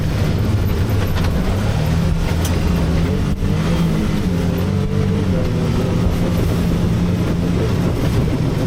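A Can-Am Maverick R off-road vehicle drives along at a continuous loud engine drone, with rough rumbling and road noise throughout, no voices.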